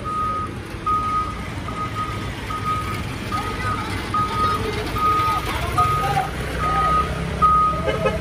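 Garbage trucks loading in a Tondo street, a steady reversing beeper pulsing in regular short tones over continuous engine rumble, with voices talking nearby.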